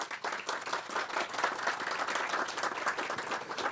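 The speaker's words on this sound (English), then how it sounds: "Please give him a round of applause." An audience applauds at a Google cable landing ceremony, with dense, sustained clapping from many hands that holds steady throughout.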